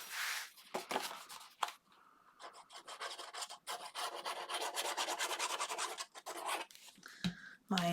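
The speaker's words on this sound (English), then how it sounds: "fold the first score line on both of our flaps. And burnish those down" Paper flaps of a craft folio being burnished along folded score lines, a steady dry rasping rub in close, repeated strokes with brief pauses between passes.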